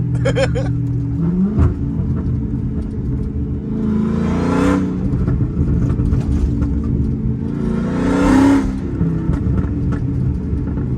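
A Hellcat-powered Chrysler 300 accelerating through second and third gear, its loud engine roaring and rising in two big surges with a rumbling exhaust and crackling pops, heard from inside the car.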